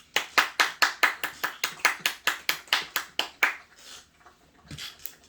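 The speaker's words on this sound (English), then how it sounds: "Have a nice round of applause for our graduates." A crowd at an FDNY EMT graduation applauds in steady, rhythmic claps that carry on for several seconds, then fade into quieter room noise.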